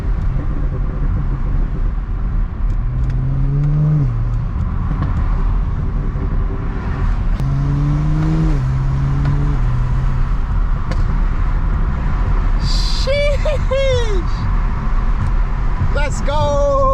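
A tuned, catless BMW 335is with the twin-turbo N54 engine rumbles low and loud, its revs rising in short climbing pulls, with a sharp squeal near the end and people talking over it.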